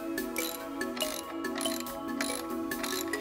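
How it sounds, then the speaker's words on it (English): A 1/2-inch socket wrench tightens bolts securing an in-wall toilet carrier frame, producing a steady run of close, metallic ratcheting clicks with a faint tonal ring underneath. "Use a 1/2-inch socket wrench or box end wrench to secure the frame in the opening"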